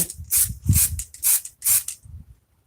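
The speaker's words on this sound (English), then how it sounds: "I'm just going to take this, you know, and give it a little spray." Four short bursts of hissing spray, each a second or less, separated by brief pauses, close by and fairly loud.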